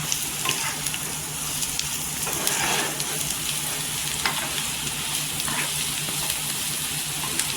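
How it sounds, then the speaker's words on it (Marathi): Potato pieces fry in oil with a steady, close sizzle that runs the whole time, and a few brief crackles and stirring scrapes rise out of it now and then. "पूर्णपणे अशी बटाटी तेलावर परतून घ्यायची"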